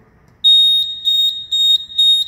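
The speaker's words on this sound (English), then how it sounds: "then you will see the alarm. Lubrication level low." A Borche injection moulding machine sounds its low-lubrication-level alarm as a series of five loud, evenly spaced high electronic beeps against a quiet background.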